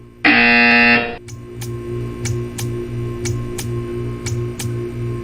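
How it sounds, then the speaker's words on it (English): Portal 2 video game buzzer: one loud, harsh electronic buzz lasting about a second, followed by a steady ticking pulse and a low mechanical hum. "You will hear a buzzer."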